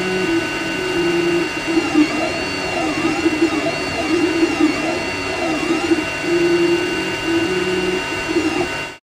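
A Sovol SV01 3D printer runs loudly and steadily, its stepper motors whining in shifting, sweeping tones over a constant mechanical hum and fan noise for the whole stretch.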